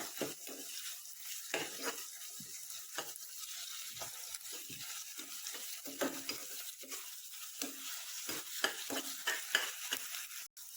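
Ginger-garlic paste with onion being stirred into frying egg curry masala, a low steady sizzle under irregular spatula scrapes and knocks against the pan throughout.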